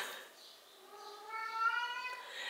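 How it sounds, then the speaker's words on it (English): A cat meows repeatedly, crying to be fed, its drawn-out wails rising and falling over a faint voice in the background. "The cat is crying."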